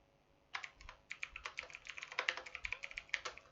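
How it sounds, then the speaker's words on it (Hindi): Typing on a computer keyboard while writing a document in WordPad, a quick, steady run of light close key clicks, fairly soft, with no talk. "देखिए अब जैसे मैं कुछ टाइप करता हूँ"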